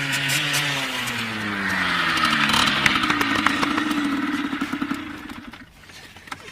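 A moped engine runs loud and close with a buzzy tone, its pitch climbing and falling as it revs, then it fades away toward the end.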